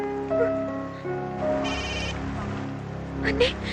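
A telephone rings with repeated electronic tones at moderate loudness, broken by pauses, while people speak around it indoors.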